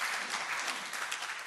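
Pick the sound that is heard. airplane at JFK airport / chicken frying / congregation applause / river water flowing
congregation applause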